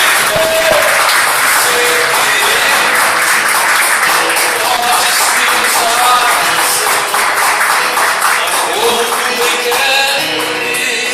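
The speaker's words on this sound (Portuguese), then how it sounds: "Vamos lá, salve de palmas a Jesus" A church congregation claps together in steady rhythmic applause, with voices and singing mixed in throughout.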